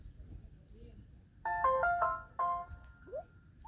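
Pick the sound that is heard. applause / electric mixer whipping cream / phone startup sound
phone startup sound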